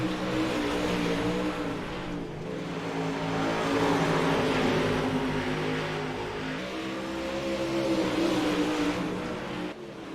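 UMP modified race cars roar around a dirt oval at a weekly series race, engines revving loudly and continuously as the pack runs through turns three and four.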